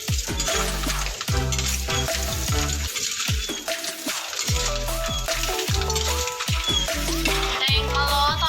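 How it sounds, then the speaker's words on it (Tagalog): Ilocano-style sautéed seafood with garlic sizzling in a pan while being stirred, a steady bright hiss with occasional utensil clinks over a tonal musical background. "Mix all together."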